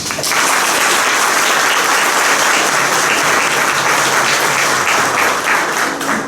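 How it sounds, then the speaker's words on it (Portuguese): Dense applause from a church congregation during a religious service in Brazil, a steady wash of many hands clapping together, loud and sustained with no voices. "Uma salva de palmas"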